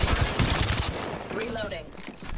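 Rapid gunfire in the Apex Legends battle royale game, a dense burst of shots up front that fades as a voice speaks over the tail end.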